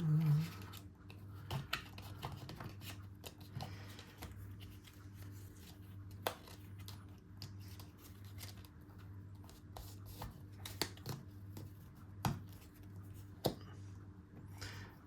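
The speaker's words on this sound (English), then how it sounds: "I'm just going to really quickly try and shuffle these." Wingspan board game cards are shuffled quietly up close, a run of soft scattered riffles and taps over a faint steady hum.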